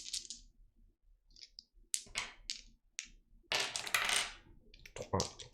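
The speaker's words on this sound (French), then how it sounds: "je lance les dés" Dice rattle and clatter onto a table in a FirstBorn board game, with several short bursts of clicking followed by one longer rolling clatter, heard close and without talk.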